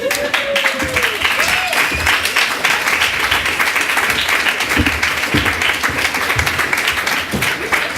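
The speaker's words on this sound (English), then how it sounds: "please give a round of applause to our graduating class of 2018" A crowd at a graduation ceremony gives sustained, dense applause for the graduating class of 2018, with scattered cheers and voices in the background throughout.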